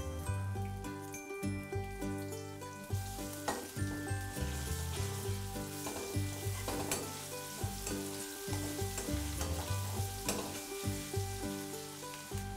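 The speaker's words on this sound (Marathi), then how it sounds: "थोडीशी फोडणी होऊन द्यायची" Mustard seeds, curry leaves, green chillies and crushed ginger-garlic sizzle and crackle in hot oil for tempering, a close, steady frying hiss with frequent small pops and occasional stirring.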